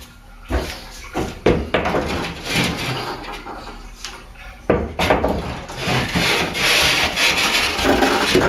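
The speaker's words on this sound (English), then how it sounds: "Now I just got to put the concrete board up and see if it fits." Cement backer board being fitted into a tiled shower wall during a renovation, heard as close scraping, rubbing and knocking bursts with a few sharp thuds, fairly loud and continuous with no talking.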